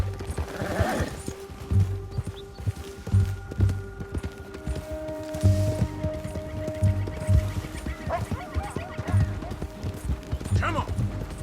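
Hooves clip-clop in a steady galloping rhythm from a horse in Red Dead Redemption 2, running throughout alongside game sounds, with voices talking over parts of it.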